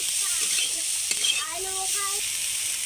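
Small dried shrimp fry in a wok, a steady broadband sizzle running throughout with a brief scrape of stirring near the middle, close and moderately loud, with no talking.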